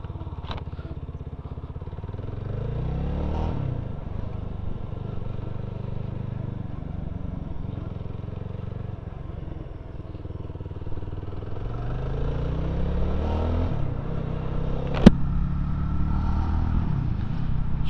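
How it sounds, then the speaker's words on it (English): A BSA 350 Bantam motorcycle rides off, its engine rumbling steadily with repeated rising pulls through the gears, close and continuous, with a brief sharp click partway through. "Quite a typical sort of farty sound that you expect from a Euro 5 Plus bike that's a 350."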